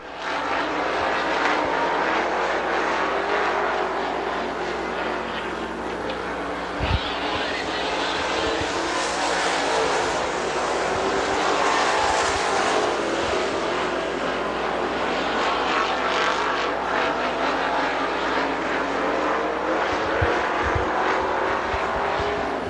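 Econo bomber stock cars race at Dixie Speedway, a loud, continuous engine roar from the pack going round the track, with brief sharp bangs along the way.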